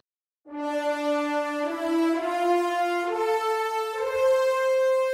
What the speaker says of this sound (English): And finally, an epic horns melody towards the end for that climatic moment.